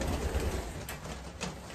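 Pigeon cooing close by, a steady low throaty rumble that runs through the whole short stretch, with faint rustling on top and no voices.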